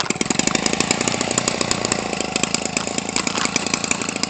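A small Homelite 25cc two-stroke RC engine runs nearby, loud and steady with a fast, raspy rattling pulse throughout, no voices over it.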